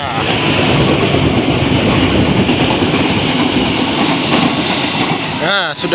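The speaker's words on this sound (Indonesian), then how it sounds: "sudah melintas tuh keretanya jalur 4" A Jakarta commuter line train rumbles past close by on track 4, a steady loud roar of wheels on rails that holds throughout, with a brief squeal near the end.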